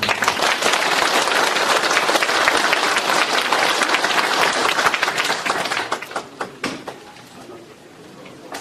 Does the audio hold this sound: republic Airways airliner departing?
no